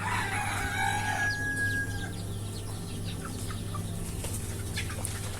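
Free-range native chickens, nearly two months old, roam a backyard poultry farm; a rooster crows at the start, then scattered clucks and chirps continue over a low steady hum.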